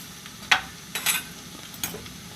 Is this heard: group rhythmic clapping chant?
no